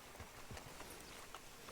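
Horse hooves clip-clop on the ground in Red Dead Redemption 2, a faint, steady walking rhythm under ambient noise.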